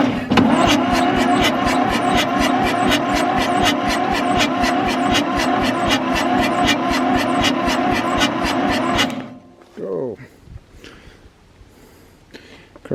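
A Ford 4000 tractor, burnt and left abandoned for over twenty years, cranks over with a steady, rapid rhythmic chug for about nine seconds before cutting off, leaving faint wind noise behind.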